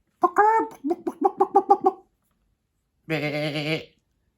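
A series of short, bleating vocal bursts, apparently a person imitating a goat, followed by a pause and one longer, wavering bleat.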